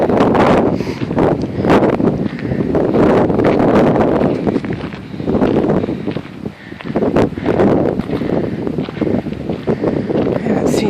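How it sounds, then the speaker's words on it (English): Strong wind buffets and roars through an open park in continuous loud gusts, thick and rumbling, with a few brief lulls and no clear voices. "It's just very windy today."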